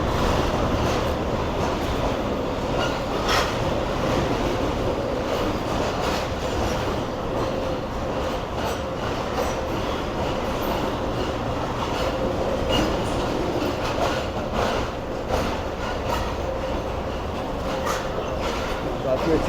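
A fully packed Subak Raftar railcar runs steadily on the line near Rawalpindi, with a continuous loud rumble and rattle of wheels and carriage and faint voices of passengers under the noise throughout.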